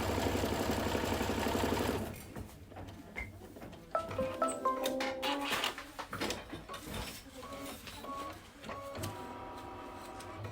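A home embroidery machine stitches a quilted mug rug, its needle running in steady mechanical bursts with pauses and small clicks. The sound is fairly close and moderate, stopping and starting throughout, with no talk over it.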